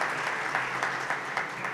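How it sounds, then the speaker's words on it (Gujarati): Steady applause from a seated audience welcomes a donor at a community gathering, a dense, even patter of clapping heard alone at moderate volume. "એમને પણ આપણે તાળીઓથી વધાવવા છે"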